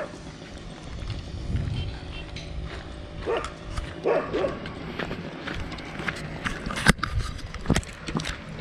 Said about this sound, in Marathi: कुत्री बुकायला लागली तर माझ्यावर